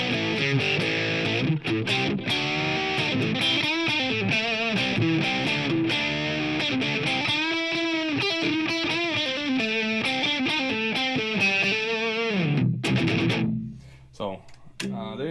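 A Kiesel DCM7 seven-string electric guitar plays with both pickups through heavy distortion, loud sustained chords and riffing lines filling the space before cutting off near the end.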